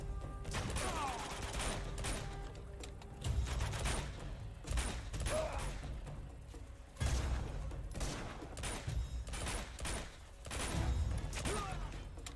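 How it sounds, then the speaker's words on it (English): Gunfire in the action game Uncharted rings out in repeated sharp bursts, a handful of loud booming shots spaced a few seconds apart among mechanical clatter and battle noise. "I thought I heard a shotgun."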